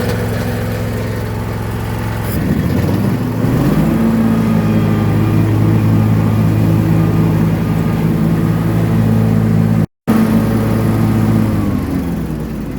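A Scag lawn mower with dull blades runs at full throttle cutting grass, its engine droning steadily and loudly, rising in pitch as the throttle opens, then holding a constant roar with a brief dropout.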